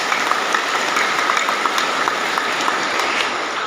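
Dense, continuous applause from a crowd at an IKSPI Kera Sakti anniversary gathering, loud and close. It holds steady throughout with no voices over it.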